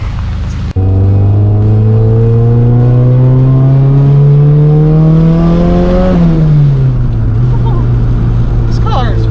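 A Nissan S14 drift car in a video game revs hard, its engine note climbing steadily for several seconds before dropping at a shift, loud and continuous, with a voice talking over it.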